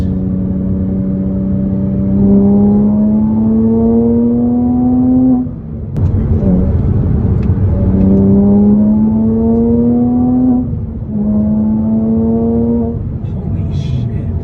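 Modified Porsche Cayman S, 351 hp, revving hard through repeated rising engine sweeps, with a brief dip around a gear change midway before climbing again, steady and close throughout with no talk.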